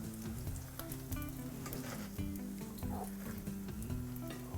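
Smashed potatoes frying in oil in a pan give a steady close sizzle and crackle with occasional stirring scrapes, continuous and fairly loud with no one speaking.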